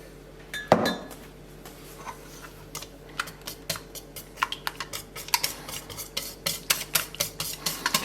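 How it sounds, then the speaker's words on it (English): Injera batter ingredients whisked in a bowl, with quick sharp clicks and taps of the whisk against the bowl, irregular at first and then settling into a fast, busy rhythm, close and fairly loud. "And we will whisk these together."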